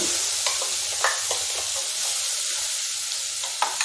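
Ground masala paste of coriander powder and turmeric sizzling with chickpeas in a pan for chhole, a constant hiss broken by short clinks and scrapes of a spoon stirring.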